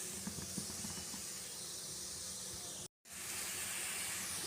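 Broccoli sautéing in a pan gives a steady, broadband sizzling hiss with faint pops and crackles in the first second. The sizzle breaks off briefly near the end, then resumes at the same level.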